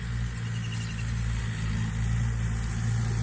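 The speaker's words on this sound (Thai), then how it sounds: "รถเกรดกำลังถอยมาแล้วกำลังขับมาแล้วค่ะ" A motor grader reversing and then driving forward on a home garden building site, its engine a steady low rumble that holds close and constant throughout with no voices.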